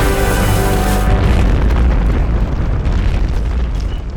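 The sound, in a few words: explosion destroying a bridge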